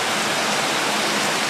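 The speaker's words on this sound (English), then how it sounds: "This is like the best rain we've ever had." Heavy rain pours down in a dense, loud, unbroken roar of water over already flooded ground, steady and close with no voices.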